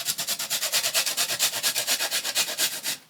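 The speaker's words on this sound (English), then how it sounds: "I'm going to use like a box grater and just grate some fresh ginger in there" Fresh ginger scraped across a box grater, a close, rhythmic rasping of quick regular strokes, roughly six or seven per second, continuing steadily before stopping abruptly at the end, with no talking.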